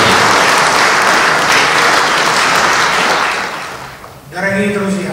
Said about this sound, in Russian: давайте поприветствуем бурными аплодисментами главного редактора книги «На благо Австралии» Владимира Гиля.